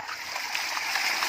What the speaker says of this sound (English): You can see the pop-up pump, the water that it spits out